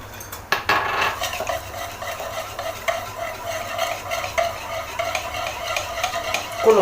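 Cake batter with ghee being beaten by hand in a bowl, a steady run of quick scraping, clinking strokes close up with no talk.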